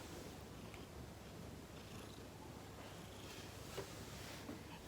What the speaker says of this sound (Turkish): Bilmiyorum kameraya hırlama sesi geliyor mu?